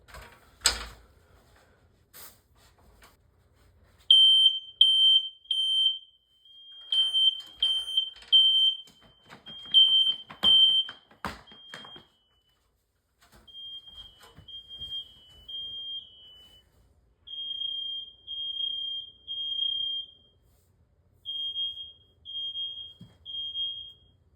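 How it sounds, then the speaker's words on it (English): A smoke alarm shrills in repeated bursts of rapid high-pitched beeps, stopping and restarting several times with brief pauses and some clicks and handling noises between. "now we gotta do a smoke test with it"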